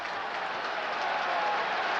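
A large football stadium crowd at a 1990 Kansas City Chiefs at Green Bay Packers game cheers and claps in a steady, dense roar, heard from a distance and fairly faint.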